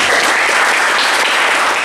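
A vocational automotive engineering class applauds loudly and close by, a thick burst of clapping from many students lasting about two seconds with no talk over it.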